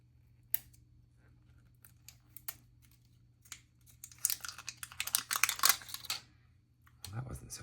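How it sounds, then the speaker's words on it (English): Crinkly plastic packaging being unwrapped from an ink calendar sample, a burst of close, sharp rustling and crackling after quiet scattered handling clicks. "Apologies for the plastic ASMR incoming."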